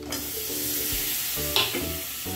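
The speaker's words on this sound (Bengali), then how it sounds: "পেঁয়াজটা ভাজা ভাজা হয়ে গেছে। এবার আমি টমেটোগুলো দিয়ে দিলাম।" Tomatoes sizzle in a hot pan of fried onion and garlic, a steady close frying hiss with soft scraping stirs and a brief spatter burst partway through.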